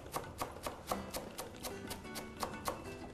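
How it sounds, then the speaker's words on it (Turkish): A knife finely chops parsley on a board in a quick, steady series of close, crisp taps, with no talking. "Maydanozumuzu elimizde geldiği kadar biraz ince doğrayacağız."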